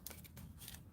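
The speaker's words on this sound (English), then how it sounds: "I just snip in the middle and then go from corner to center." Scissors snipping paper up close, a few faint, crisp cuts within a second.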